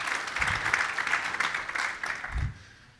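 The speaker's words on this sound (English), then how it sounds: "So a round of applause for yourselves." An audience at a morning conference talk clapping together for about two seconds, a dense wash of applause that fades out quickly.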